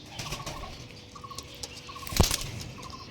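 Lambari breed pigeons being released: soft cooing and light fluttering close by, then a sharp burst of wing flapping near the end.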